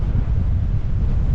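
Strong wind blows beside Lake Villa on a very windy day, a dense low roar buffeting the microphone without pause, with no voices.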